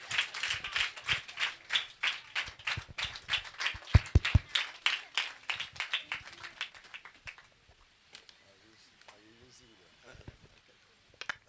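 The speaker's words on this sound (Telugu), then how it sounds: "చప్పట్లు కొడదాం అందరూ కూడా." A congregation at a church gathering in Bhimavaram claps in a steady, rhythmic beat for about seven seconds. The clapping then thins out into a few scattered claps and quiet room noise.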